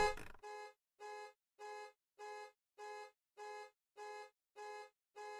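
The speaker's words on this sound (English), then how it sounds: "I need to turn off that alarm before someone calls the cops." A car alarm in a video game sounds nine evenly spaced, loud, identical horn blasts in a steady rhythm, with no talk.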